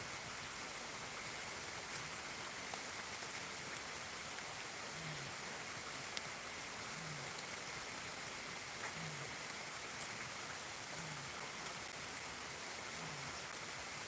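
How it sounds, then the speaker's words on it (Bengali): Heavy rain pours steadily, a dense, even wash of falling water with no breaks, heard alone with no speech over it. "দেখেন কি পরিমাণ বৃষ্টি"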